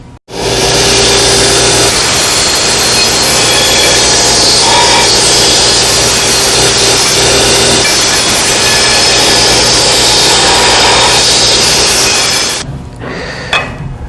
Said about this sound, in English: I'm going to use the belt sander to knock these edges down